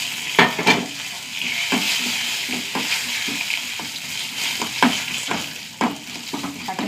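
Dried red chillies fry with parboiled rice in a hot pan, giving a steady loud sizzle broken by repeated scraping stirs and a few sharp knocks of the spoon, with no one talking.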